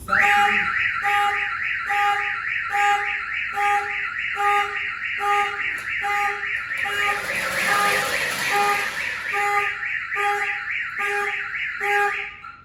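A loud Viper car alarm, triggered by its digital tilt sensor, blares nearby, cycling through repeating electronic siren tones in a steady pulsing pattern, with brief shifts in the tone sequence midway.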